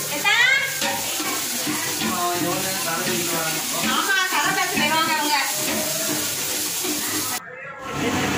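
Chicken being stirred in a pot on a fast stove, with faint scraping and sizzling that stays mostly under continuous talk.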